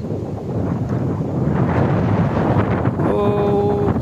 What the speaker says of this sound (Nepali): क्या हावा चलेको।